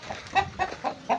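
A mixed-breed hen clucks close by, four or five short soft clucks in a loose rhythm, with no talking.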